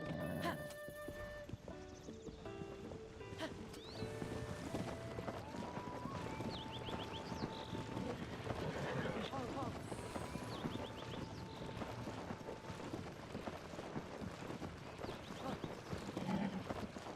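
Horse hooves clip-clop at a fast gallop in the video game The Legend of Zelda: Tears of the Kingdom, a continuous rapid drumming mixed with game music and effects, with occasional talking over it.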